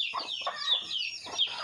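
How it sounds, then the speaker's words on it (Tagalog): Black chickens on a provincial farm clucking and chattering close by in quick, overlapping bursts, with a bright, fluttering quality and no talk. "Manok, manok maitim."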